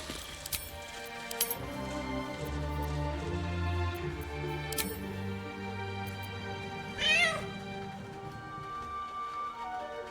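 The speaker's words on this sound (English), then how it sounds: "The cat peers back. You read something in its eyes." A cat meows once in the video game Baldur's Gate 3, a short, clear call over ambient game music and soft rain.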